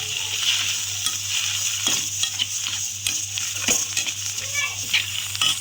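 Goat brain is stirred and broken up while frying in a pan. A constant close sizzle sits under repeated light spatula scrapes and taps, with a faint hum in the background.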